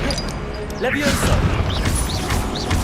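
A Levioso levitation spell in Hogwarts Legacy gives a shimmering swoosh with crashing, clattering game effects around it and a shouted voice over the top.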